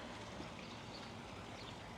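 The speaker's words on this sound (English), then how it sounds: "Little water feature." A small decorative water feature fountain on a town main street, giving a steady, even wash of splashing water that holds level throughout with no voices.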